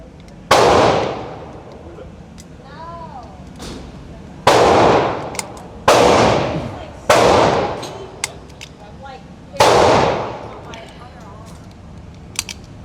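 An M&P 2.0 9mm pistol fitted with a forced reset trigger fires Winchester rounds at a range in five loud, sharp bursts of rapid shots, with short gaps between bursts and a voice talking faintly in between.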